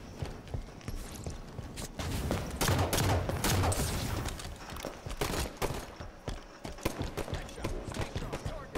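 Pistols fire in a video game match as a dense run of sharp, rapid cracks and bursts, loud and close, overlapping with bits of game noise and a voice in the background.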